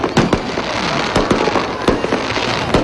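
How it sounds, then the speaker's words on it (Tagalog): A grand fireworks display closing a night of Sinulog Festival dancing in Cebu, with repeated sharp bursts and crackling booms at irregular intervals over a steady roar of crowd and ambient noise. "na nagtapos sa pamamagitan ng isang engrandeng fireworks display."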